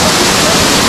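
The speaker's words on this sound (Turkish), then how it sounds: "Hakkari'deki onlarca şelaleden bir tanesini daha gördük" The Ora waterfall in Hakkari, Turkey, roars as a steady, dense rush of falling water, loud and close, with no break in the sound.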